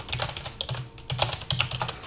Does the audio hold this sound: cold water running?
no